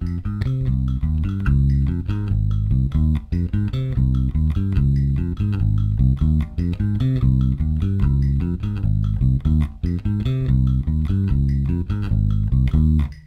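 A bass guitar plays a steady repeating arpeggio pattern in 8th notes, loud and close, over a constant metronome tempo of 147 beats per minute with no talking.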